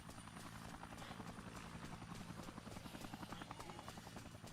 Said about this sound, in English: There's an attack helicopter out here now that will kill you if you're not ready for it.